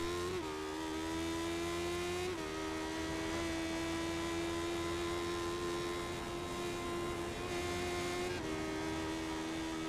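A race car holds a steady, loud engine note through a flowing lap of the circuit, with brief dips and surges around gear changes near the two- and eight-second marks and no voices.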